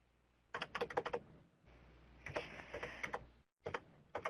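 Quick bursts of typing on a computer keyboard during an online webinar, key clicks rattling in uneven runs separated by short pauses, close and faint with no voices.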